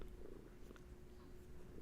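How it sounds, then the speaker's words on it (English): A sleeping cat lying in a lap purrs in a soft, steady low rumble, quiet and continuous with no voices over it. "I also now have a sleeping, purring kitty in my lap"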